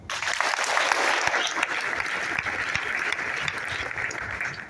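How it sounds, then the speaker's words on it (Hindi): Audience applause at a business-plan meeting in Thane, a dense, steady clapping from a crowd that holds at an even loudness for several seconds. "साहेबांना एक जोरदार ताली दो।"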